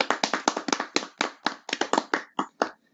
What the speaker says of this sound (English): Clap it up for the Balcony Life Podcast.